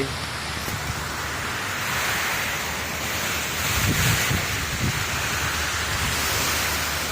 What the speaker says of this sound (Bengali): কি জোরো হাওয়া, বাতাস বইতেছে।